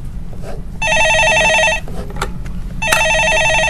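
Two bursts of an electronic telephone ringing, loud and close, with a short gap between them, in a call-in stock market broadcast studio; no talking.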